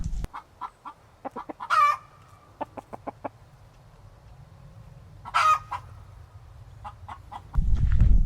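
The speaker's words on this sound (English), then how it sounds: "Literally every single day the rooster is getting out." A rooster on a homestead, loose outside its chicken run, clucks in short, scattered calls, with two louder, drawn-out squawks standing out against a quiet, faintly humming background.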